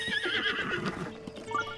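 Epona, a horse in Zelda: Breath of the Wild, neighs in a close, loud, quavering whinny over soft hoof clip-clops, with no voices.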